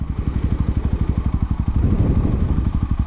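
A 2021 Honda CRF300L dual-sport motorcycle fitted with a MotoX aftermarket exhaust rides at speed on a work commute, its single-cylinder engine thumping in a loud, fast, steady rhythm close to the listener, no talking.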